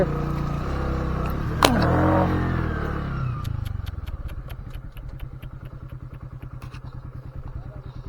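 A motorcycle engine runs and revs near while crossing a flooded culvert in Male Mahadeshwara Hills, Chamarajanagar district, with splashing and clatter early on, settling into a steady rhythmic idle putter.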